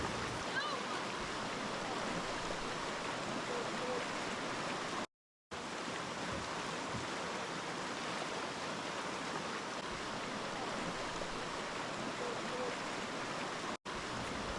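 River water rushes steadily around a raft on the Verde River in Arizona, a continuous broadband wash that is fairly loud and close, with one brief dropout partway through.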